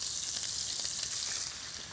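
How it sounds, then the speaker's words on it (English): Scallops sear in a hot wok with vegetable oil, giving a steady, bright, close sizzle that spits and crackles evenly and eases slightly near the end, with nobody speaking. "So it's all about fast wok frying."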